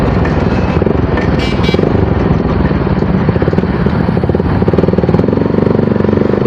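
A motorcycle engine with an aftermarket exhaust leaking at a weld runs loud and close with a throaty, rapidly pulsing exhaust note that stays steady throughout.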